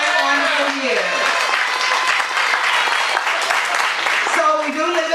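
Festival audience applause at the 2018 Cleveland Asian Festival, a steady dense wash of clapping filling the whole stretch, with a voice talking over it at the start and again near the end.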